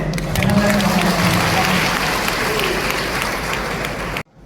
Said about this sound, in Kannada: ನಮ್ಮೆಲ್ಲರ ದೊಡ್ಡ ಚಪ್ಪಾಳೆಯೊಂದಿಗೆ